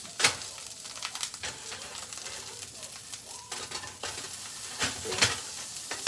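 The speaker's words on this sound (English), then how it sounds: "Sounds like it is about time to flip my Beyond Burger." A Beyond Burger plant-based patty sizzles in a pan just after being flipped, with a steady close frying hiss and occasional sharp clicks and pops.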